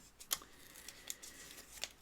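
Scissors snip paper near yarn at a tapestry weaving loom, a few quiet, sharp cuts spaced apart over a hushed room.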